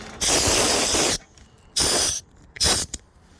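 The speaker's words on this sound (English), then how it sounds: "I can hook up my air hose here" A compressed air hose gives three sharp, close bursts of spray in a truck repair setting: a long first blast, then two shorter ones separated by brief pauses.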